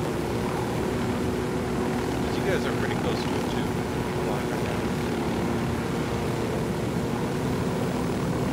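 A helicopter flies in Ghost Recon Wildlands, its rotor and engine giving a continuous broadband drone that runs steadily through the whole stretch beneath people talking.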